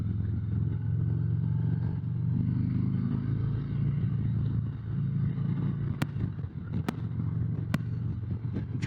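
A Harley-Davidson motorcycle engine idling and revving, a loud, close, continuous low rumble that swells and eases, with a few sharp clicks near the end.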